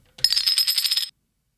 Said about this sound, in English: Then we have a screw fall.